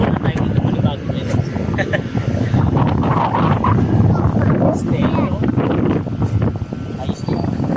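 Strong wind buffets the microphone in a constant loud roar while a bull kite is flown outdoors, with a person calling out briefly over the gusts.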